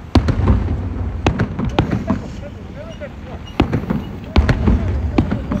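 A government fireworks display at night, sharp booms and crackling bursts arriving in irregular clusters at mid distance, with people talking over them.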